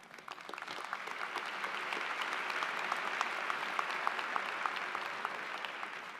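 An audience at App State's Spring 2025 commencement for the Beaver College of Health Sciences claps steadily for about six seconds, a dense, even wash of many hands that rises slightly and holds, with no voices on top.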